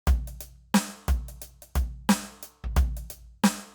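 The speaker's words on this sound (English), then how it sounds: "So I'll play you the jazz kits" A jazz drum kit pattern loops from a Boss RC-600 loop station: punchy kick and snare hits with cymbal wash in a steady, repeating groove, clear and close, no talking.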